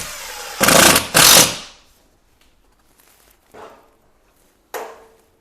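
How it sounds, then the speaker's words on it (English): Two loud, whirring bursts from a power screwdriver driving a screw into a wall with rawl plugs while mounting a paper roll dispenser, close up, followed by a couple of faint knocks and a short clack. "I'm going to fix the screw on the other side."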